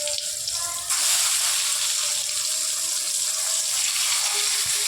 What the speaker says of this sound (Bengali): প্রথমেই আমরা কড়াইয়ে তেল দিয়ে গরম করে নিয়ে বেগুনটা ভেজে নিচ্ছি।